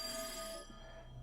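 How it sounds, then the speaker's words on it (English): A prototype teletrophone in a video game rings like a bell, giving a faint, steady metallic ring with a bright tone that fades after about half a second. No voices are heard. "What was that sound like a ringing bell? I think it came from this odd device."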